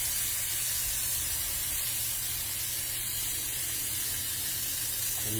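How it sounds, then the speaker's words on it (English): A steak sears in a hot pan with a steady, loud, continuous hiss and sizzle that stays close and unbroken throughout, with no talking over it. "Make sure you sear all sides"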